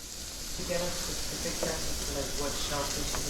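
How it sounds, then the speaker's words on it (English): Porgy fish frying in hot oil, giving a steady broad sizzle with small crackles and pops throughout; a faint voice may sit under the frying noise. "And we're going into the oil with our porgy."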